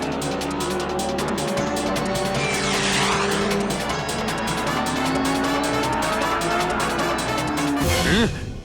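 A speeding car roars past with tires squealing and skidding in a long screech, loud and close, ending in a sharp swerving whoosh; dramatic music plays beneath.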